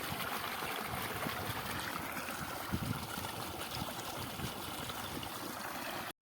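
Water runs steadily through an irrigation channel into a summer-irrigated mung bean field, a continuous broadband rushing and gurgling flow held at even loudness throughout, with no talk over it.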